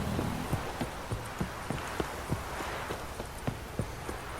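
Horse hooves clip-clop at a steady walking rhythm in The Witcher 3 video game, a dozen or so evenly spaced hollow thuds over a continuous low background hum.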